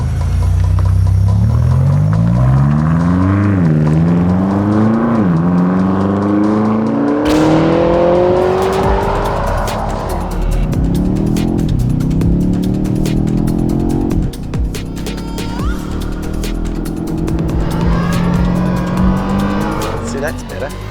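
A BMW XM is driven hard up the Pikes Peak course, its engine loud and close as it rises and falls through the gears, with tires squealing through the corners while someone talks over the noise.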